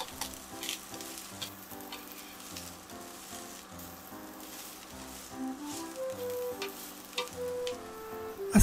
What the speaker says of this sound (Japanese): 香りが立ってきたら玉ねぎを炒めます。 少ししんなりするまで炒めます。